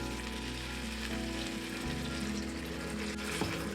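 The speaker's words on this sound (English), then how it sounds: "Searing both sides of the meat, making sure it tightens and not fall apart later." Beef brisket searing in an Instant Pot, a steady broadband sizzle and crackle of frying meat that runs continuously at close range with a low hum underneath, no talking.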